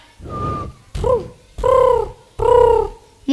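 A voice imitates a pigeon at a school competition, producing a breathy opening then three or four smooth, hollow coos in a steady rhythm, close and moderately loud.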